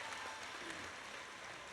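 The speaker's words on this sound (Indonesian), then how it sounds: "tepuk tangan" An audience claps at a thanksgiving and prayer gathering for a high school's 48th anniversary: a short, steady burst of dense clapping, faint and distant, with no voices over it.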